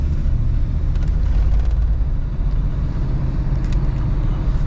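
A 1979 Ford Thunderbird driving at quarter throttle, giving a loud, steady, low engine rumble with road noise that holds evenly throughout.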